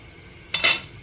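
Metal utensils clink against a pot while palm fruit halva is moved into another vessel, two quick close clanks in an otherwise quiet kitchen.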